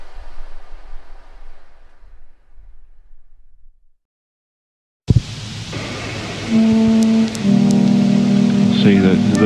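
Rain falls in a dreamcore video game space as a soft, even hiss, then drops to silence before a hissing wash returns under low sustained droning tones.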